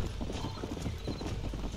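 Horse hooves clip-clop steadily in Red Dead Redemption gameplay, a busy run of quick hoof strikes over a constant game background, fairly loud and close, with no talk.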